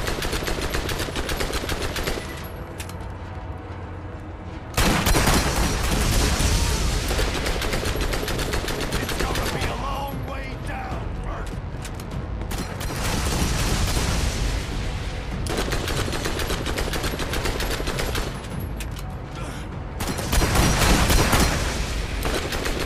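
Baron Flynt fires his guns in the video game Borderlands in long, dense bursts of rapid automatic shots, with heavier booms mixed in. The gunfire is loud and nearly constant, with only short dips in intensity.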